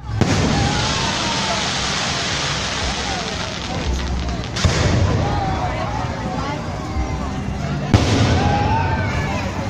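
Continuous crackling and booming fireworks at the Cambodian Water Festival, dense overlapping bursts with whistling streaks, loud and sustained, with a couple of sharper cuts in the stream.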